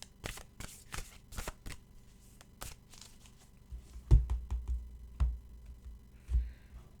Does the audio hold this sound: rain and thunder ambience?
no